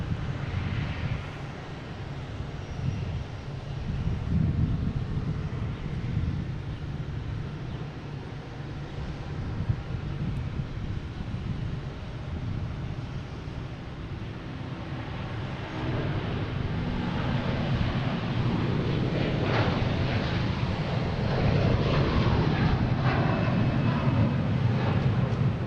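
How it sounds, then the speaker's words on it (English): At Boston Logan, a Scandinavian Airlines Airbus A330 takes off as a distant jet roar that swells over about 25 seconds, rising in loudness toward the end over wind noise on the microphone. "we have Scandinavian taking off, heading to Copenhagen, A330, flight 928"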